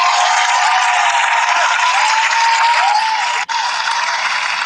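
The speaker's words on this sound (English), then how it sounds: "Round of applause" A podcast crowd bursts into steady, dense applause that holds loud and even throughout, with a brief dip near the end and a faint whistle-like tone riding over it.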